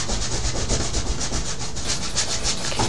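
Paintbrush scrubbing little crisscross blending strokes across canvas while copying a Bob Ross landscape, a steady dry rubbing texture with faint rhythmic pulses, close and continuous throughout.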